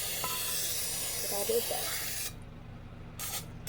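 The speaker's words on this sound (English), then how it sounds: "Put the cooking spray in there so that it doesn't stick to the pan." Hissing burst of cooking spray sprayed into a pan, a steady aerosol spray lasting a couple of seconds under a voice, then a couple of short extra spritzes.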